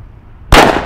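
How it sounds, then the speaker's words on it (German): A Honey Badger firecracker, 6 gram, category P1, goes off with a single sharp loud bang after a brief quiet moment, followed by a short decaying rumble. "Direkt ein gutes Böllerchen. Honey Badger mit 6 Gramm in der Kategorie P1."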